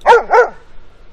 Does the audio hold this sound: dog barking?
yes